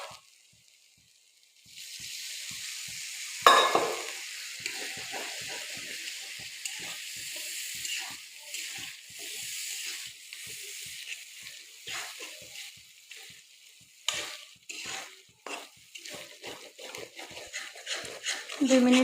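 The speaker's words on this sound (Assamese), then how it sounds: "সেইখিনি ভালদৰে লৰাই লৈ অলপ সময় ভালদৰে মজাই ল'ম" Chicken curry with potatoes sizzles and fries in a pan while it is stirred, a steady close hiss broken by scraping and clattering stirring strokes.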